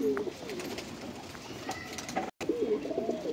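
Punjabi pigeons held at a pigeon sale in Chhattarpur village, Delhi, coo in soft repeated low warbles, close by, with a brief break partway through and faint background noise.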